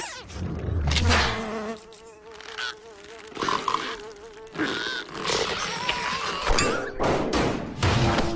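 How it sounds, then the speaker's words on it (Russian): A housefly buzzes close by in whining bursts that rise and fall as it circles, broken by brief thumps and gaps. "Муха."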